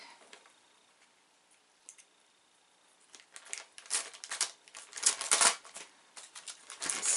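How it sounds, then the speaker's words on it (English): Plastic packaging from a haul being cut open, quiet snips at first, then louder crinkling and rustling of plastic close by. "Oh, I gotta cut my way in"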